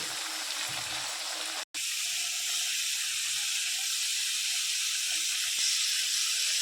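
Potato pieces frying in hot oil give a steady, even sizzle and hiss that runs throughout, broken once by a brief silent gap, with no talk over it.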